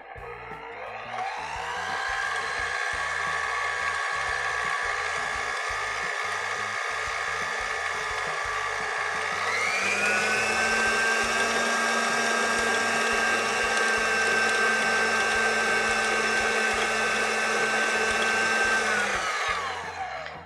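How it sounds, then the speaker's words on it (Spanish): A stand mixer with a paddle attachment creams margarine and sugar, whirring steadily, its motor tone shifting up to a higher, fuller pitch partway through and running continuously to the end. "Para este procedimiento de cremado vamos a utilizar la pala de nuestra batidora."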